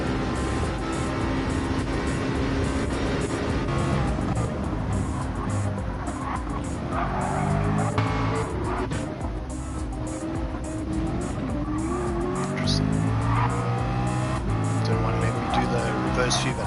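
Race cars in a racing video game, including a C8, come down a hill in a group, their engines droning and shifting pitch with tire squeal over a continuous roar, under a commentator's voice.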